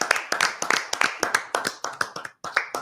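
A single person claps steadily, with about nine sharp, evenly spaced hand claps over a few seconds. The claps are close and fairly loud, with a brief gap near the end and no speech.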